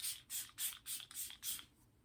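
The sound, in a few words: Milk Makeup Hydro Grip setting spray sprayed on face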